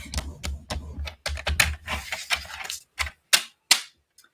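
Crumb cake cardstock being scored with a scoring tool, giving a run of close, rapid clicking and scraping strokes that slow into three sharp separate clicks before stopping.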